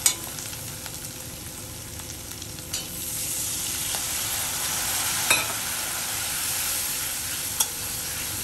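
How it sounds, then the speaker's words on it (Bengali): Spices with chili powder frying in a pan, a steady close sizzle with a few sharp clicks and stirring knocks scattered through it, no voices. "লঙ্কা গুঁড়ো। এখন একটু ভেজে নেব।"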